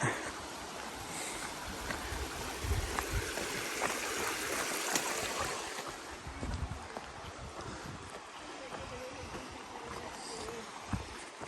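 Creek water flows and trickles over a creek bed along a hiking trail, a steady soft wash with light wind and a few faint knocks.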